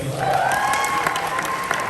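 Audience at a chamber of commerce gala applauding, a dense, even wash of clapping from a crowd that continues steadily throughout the short stretch.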